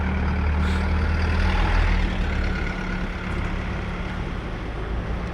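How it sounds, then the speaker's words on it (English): Delivery trucks rumble past on a calm, windless day behind seaside apartments at a marina foreshore, a heavy low engine drone swelling nearby and then easing off as they move on. "Time of the year, and all the delivery trucks, food delivery."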